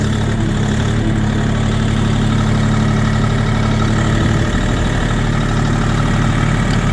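A tractor engine idles steadily and close by while the gearbox is shifted into reverse, a continuous low mechanical drone with a slight change in tone partway through.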